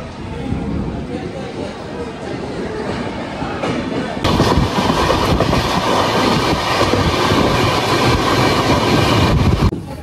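Swarna Jayanti Express passenger train running after departing Belagavi station, heard from on board, with a steady broadband rumble and clickety-clack that grows louder partway through and continues to the end.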